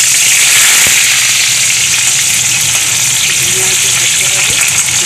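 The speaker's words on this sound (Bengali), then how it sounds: "এবার গ্যাসে চলে যাব, আমি এগুলোকে ভেজে নেব।" Potato chips frying in hot oil in a wok, making a loud, dense, continuous sizzle with crackling bursts that fills the whole stretch.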